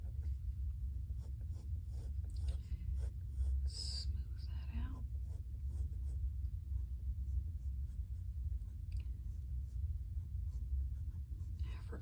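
A pencil sketches a hand on paper, giving repeated soft scratchy strokes in short bursts, close and quiet, over a low background hum, with a few faint breathy sounds between strokes.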